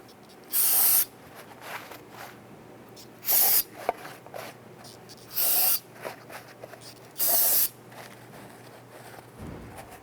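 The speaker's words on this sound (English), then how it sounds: "Now I'm going to use a little bit of spray solvent on this." Spray solvent hisses from an aerosol can in four separate short bursts, loud and close, during work on the exhaust manifold flange studs of a 1999-2004 Jeep Grand Cherokee.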